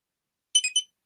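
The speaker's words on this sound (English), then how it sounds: "did you hear that sound? It went beep," A phone comic-book cataloging app gives three quick, high electronic scanning beeps in close succession, clear and isolated against silence.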